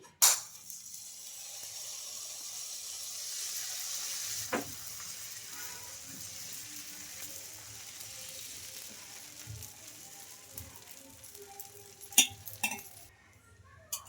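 Curd dosa batter sizzling on an oiled hot pan, a continuous soft frying hiss with a couple of sharp scraping clicks from a utensil, no talk.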